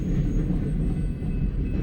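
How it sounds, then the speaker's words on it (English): Freight train cars passing near Fremont, Nebraska, heavy covered hoppers carrying feed, a steady, loud low rumble and rolling roar throughout, no voices. "No, this is the Ontario train."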